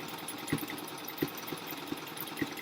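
A sewing machine steadily whirs while stitching over thick patchwork fabric, with regular thumps every half second or so as the needle strains through the layers, close and fairly loud.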